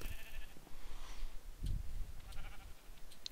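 Sheep bleat in a multiplayer arcade video game, with short, quiet calls rising over faint game background noise.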